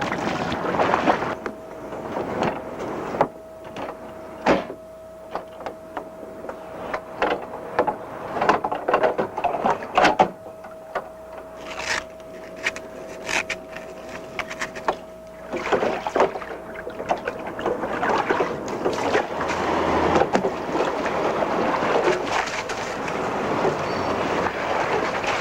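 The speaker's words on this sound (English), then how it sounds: "On skimmers, people get on them and within 3 minutes they're rowing." Skimmer rowboat being rowed on open water, a continuous wash of water and hull noise with scattered knocks from the oars and a faint steady hum underneath, no voices.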